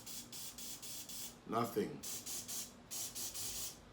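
A spray bottle fires repeated short hissing bursts at a face mask during a protection test, the sprays coming in a steady rhythm while someone speaks briefly in between.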